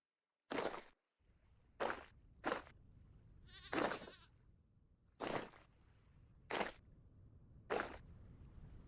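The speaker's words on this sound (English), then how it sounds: "Yep, that's goats." Goats bleat in the video game Vintage Story, with about seven loud, separate calls spaced a second or so apart over a quiet outdoor background.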